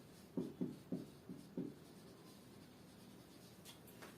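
Chalk or marker taps and scratches on a board during a maths lecture, five short quiet strokes in the first two seconds, then faint room hiss.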